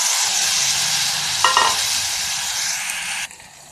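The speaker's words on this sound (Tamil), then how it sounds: "இப்போது தக்காளி 2 ஆட் பண்ணிக்கலாம்." Chopped tomatoes frying in a hot pan for Tamil paruppu rasam, a steady loud sizzle with a brief stirring clatter midway before the hiss drops off near the end.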